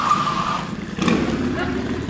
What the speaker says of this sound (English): Some guys on a motorcycle behind me.